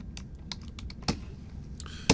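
Quiet computer keyboard typing while a username is entered, with sparse individual key clicks at an uneven pace and a firmer keystroke near the end, likely the Enter key.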